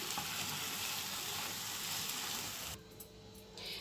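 Eggplant with garlic, chili and salt fries in a pan while being stirred, a dense continuous sizzle that drops sharply near the end, leaving a quieter crackle.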